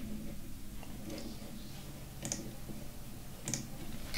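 Square bracket keys pressed on a computer keyboard, two or three crisp isolated clicks spaced about a second apart over a low background hum, close and moderately loud.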